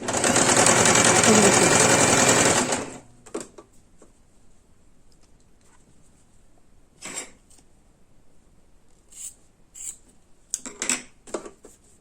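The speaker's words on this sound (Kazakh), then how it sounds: "осылай тігіп шығамыз." A sewing machine stitches ribbon onto a piece of patchwork. It runs loud and steady for under three seconds, then stops, leaving quiet handling clicks and light rustles.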